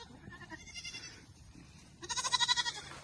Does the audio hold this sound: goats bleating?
yes